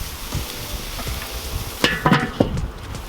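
Burgers sizzle on a Weber kettle grill, a steady soft crackling hiss throughout, with a few sharper clinks and scrapes of handling near the end.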